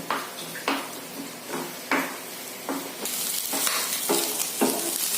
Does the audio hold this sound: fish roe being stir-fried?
yes